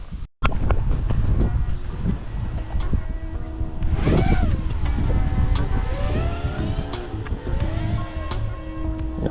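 A Quadmovr FPV drone takes its maiden flight in strong wind, its motors whining steadily and sweeping up and down in pitch over constant wind buffeting, with no talk.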